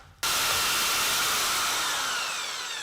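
A power drill drilling out a broken bolt on a Jaguar S-Type starts abruptly and runs steadily at high speed, a loud, close whining grind that holds for a few seconds.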